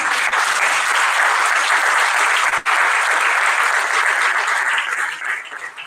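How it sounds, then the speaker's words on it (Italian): Loud, sustained audience applause fills a public talk with Giorgia Benusiglio, dense clapping holding steady and only thinning slightly at the very end, with no voices over it. "Facciamo un applauso per..."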